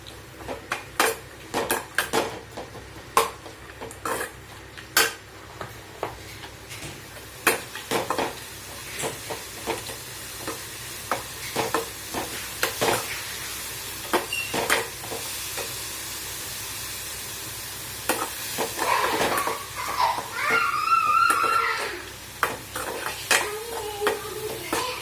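Onions with turmeric sauté in a pan, a steady sizzle broken by repeated scrapes and clinks of a spoon stirring against the metal, close and with no voices.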